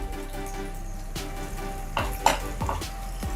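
Thinly cut garlic, ginger, green chili and capsicum fry lightly in hot oil, a steady close sizzle broken by a few spoon scrapes and taps against the pan.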